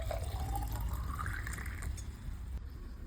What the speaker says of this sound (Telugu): ఫస్ట్ ఒక గ్లాస్ జార్లో ఫ్రెష్ కోకోనట్ వాటర్ పోయండి.